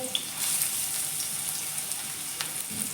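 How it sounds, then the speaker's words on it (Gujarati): Chopped onion and carrot sizzle in hot oil in a pan for Indian-style masala pasta, a steady crackling hiss with a few sharper pops, close by and uninterrupted. "તો તેલ ગરમ થઈ ગયું છે, તેની અંદર હું આ અડધું જે કટિંગ કર્યું હતું તેમાંથી અહીંયા હું 1 ડુંગળી એડ કરીશ"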